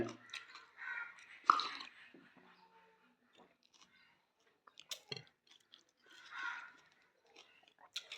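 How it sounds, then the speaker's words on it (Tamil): Someone bites into a raw small onion and chews it close up during a village breakfast, with crunchy bites followed by softer mastication, broken by quiet gaps and some murmured speech. "ஒரு அடி கடிச்சிட்டு சின்ன வெங்காயம் ஒன்று கடிச்சிக்கணும்."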